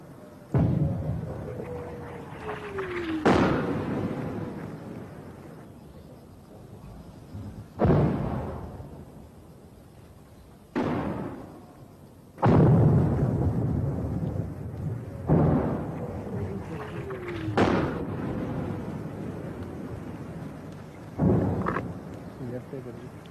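Artillery guns fire during the 1971 Bangladesh war, sending about seven heavy booms at irregular intervals, each a sharp blast that rolls off into a long rumbling decay, with voices calling out between the shots.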